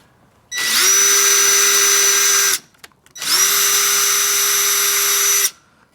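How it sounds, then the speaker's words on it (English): A power drill bores holes into a Toyota GR86 side skirt in two sustained, loud whirring bursts separated by a brief pause, running close up with no talk. "you don't make a mistake on drilling some holes in your side skirt"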